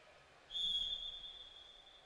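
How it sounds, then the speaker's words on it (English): A referee at an indoor futsal match blows one long, steady whistle blast that starts abruptly and holds clear and fairly close over quiet court ambience. "And Pellegrino kicks off before the referee's whistle, so they'll do it again."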